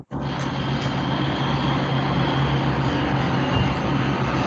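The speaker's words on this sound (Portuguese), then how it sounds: "tá vendo esse barulho de caminhão, gente?" A truck rumbles past outside an open window, a loud, steady, broadband engine drone filling the whole stretch without letting up.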